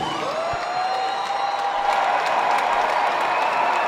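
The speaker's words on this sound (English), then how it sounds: "please put a big round of applause together for both of the fighters in this ring" Arena crowd applauding both fighters after a ten-round championship women's boxing bout, steady distant clapping and cheering from a large audience, with a sustained announcer-like tone over the top.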